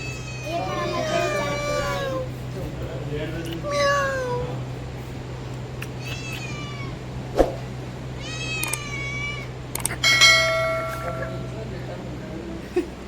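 A cat meows repeatedly during a Mahabaleshwar trip, a series of clear, drawn-out cries spaced a few seconds apart over a low, constant background hum.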